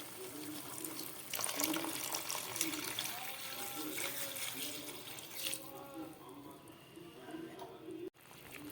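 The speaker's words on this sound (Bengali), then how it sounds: "এবার দিয়ে দিচ্ছি আমি পরিমাণ মতো জল।" Water poured from a vessel into a simmering vegetarian cauliflower roast curry with green chillies, a steady broad splashing rush that runs for several seconds and thins out toward the end, with faint background noise.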